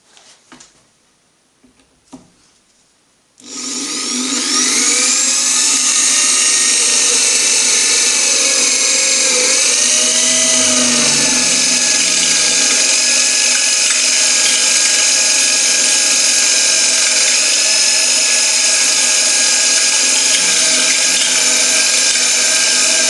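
A TiN-coated bit in a handheld pistol drill bores into 10mm thick stainless steel plate, a loud, steady high-pitched grinding whine that runs continuously after a few faint knocks at the start, with slight pitch wobbles as the bit bites.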